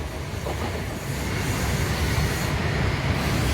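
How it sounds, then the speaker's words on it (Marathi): A steady, heavy rumble of a Mumbai train passing toward Sewri station fills the air, low and rolling with a faint rattle, without any voices. "हे जात आहे ट्रेन"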